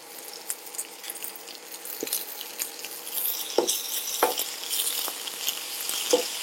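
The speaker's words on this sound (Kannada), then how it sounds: "ಸೊ ಈ ಜಿಂಜರ್ ಗಾರ್ಲಿಕ್ ಪೇಸ್ಟ್ ಅಂದ್ರೆ ಶುಂಠಿ ಬೆಳ್ಳುಳ್ಳಿ ಪೇಸ್ಟ್ ಹಸಿ ವಾಸನೆ ಹೋಗೋವರೆಗೂ ಸ್ವಲ್ಪ ಫ್ರೈ ಮಾಡ್ಕೊಳ್ಳೋಣ" Ginger garlic paste fries in a pan with a constant soft sizzle, while a spoon stirs and scrapes against the metal in repeated close clacks.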